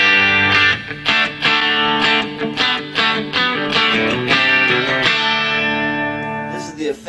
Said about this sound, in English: It's got a really nice reverb sound.